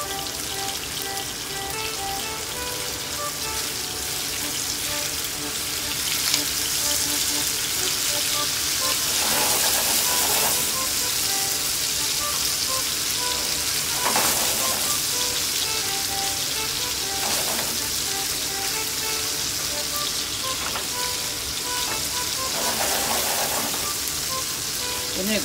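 Tandoori chicken frying in a single frying pan, a loud continuous sizzle and spatter with occasional sharper bursts as pieces are turned, close up and steady with no talking.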